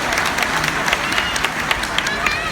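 A cruise ship audience applauds a departing restaurant manager, producing dense, steady clapping from a crowd in a large room, with a voice speaking over it.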